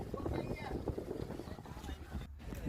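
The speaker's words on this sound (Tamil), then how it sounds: "இப்போ நம்ம படகு போகுது." A fishing boat moves on a river, its low engine rumble and water wash running steadily underneath, with voices talking over it and some wind buffeting the microphone.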